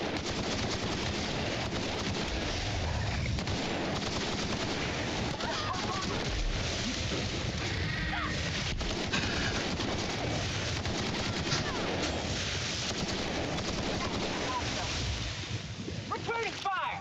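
Gunfire in the video game The Outer Worlds, steady bursts of shots layered over a constant roaring ambient wash, with faint voice-like sounds mixed in, lasting the whole stretch.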